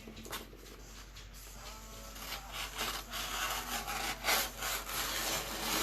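Scissors cut adhesive liner sheet sized to cover a pizza pan, making a series of close, quiet rasping and crinkling strokes that swell and fade irregularly, with no voices.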